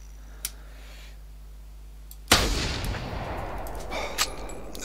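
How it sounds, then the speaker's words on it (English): A single loud rifle shot in theHunter, a hunting video game set on a grizzly bear mission, cracks suddenly and close, then trails off into a long echoing tail over faint ambient game sound. "If he comes out again, I'm gonna shoot him."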